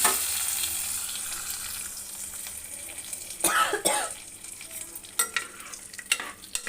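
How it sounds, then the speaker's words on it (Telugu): Hot tempering of mustard seeds, cumin and curry leaves poured into a curry, a loud steady sizzle that fades, then bursts of stirring and spattering near the end, with no speech. "ఈ పోపు తీసుకెళ్ళి కూరలో వేసేయడమే"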